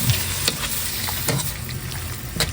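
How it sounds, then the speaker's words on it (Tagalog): Ground pork or beef sizzling and frying in a pan while being stirred and broken apart, with a steady crackling hiss and occasional scraping strokes close by. "Hahaluin ko lang po muna itong karne."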